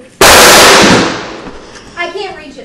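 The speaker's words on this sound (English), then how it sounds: "Excuse the range noise." A single sharp, loud gunshot cracks out close by at an outdoor shooting range and decays quickly, followed by faint indistinct voices in the background.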